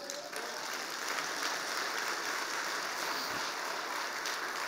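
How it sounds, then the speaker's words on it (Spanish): A church congregation gives a dense, sustained round of applause, many hands blending into a continuous rain-like roar that stays at an even level throughout with no speech. "Le damos un aplauso a Él."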